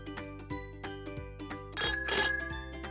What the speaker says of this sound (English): It has 2 wheels and a bell.